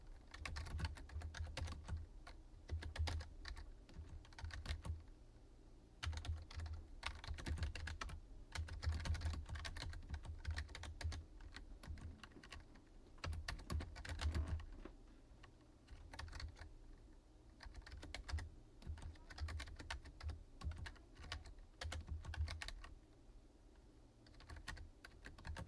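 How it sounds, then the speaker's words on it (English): Steady, rapid typing on a computer keyboard during a session of Remnant 2 and League of Legends, dense clattering keystrokes continuing throughout, faint and close with no talk. "I'm not getting into a typing war with Kate"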